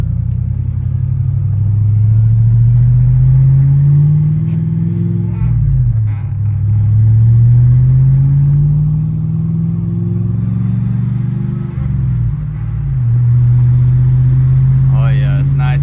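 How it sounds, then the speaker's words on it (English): Rattly, droning exhaust inside a lowered truck's cab while driving: a loud, steady low rumble whose pitch rises and falls in long sweeps as the engine revs up and eases off, with a dip near six and twelve seconds. "it's nice and rattly in here with the exhaust"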